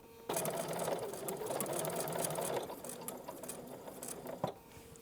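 A sewing machine runs steadily for a few seconds stitching quilt binding, a close, continuous whirring hum that eases off briefly near the end with a small click.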